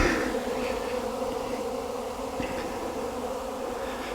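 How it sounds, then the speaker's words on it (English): Dense, steady buzzing of many honey bees swarming close around a honey feeder, a continuous hum with occasional individual bees passing near. "Look at all these bees."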